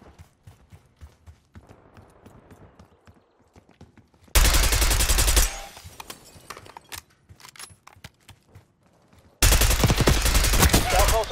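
Gunfire in the Call of Duty Black Ops 6 multiplayer beta: two loud, dense bursts of rapid shots, the first about a second long and the second lasting to the end, with quieter clicks, footsteps and muffled activity between them.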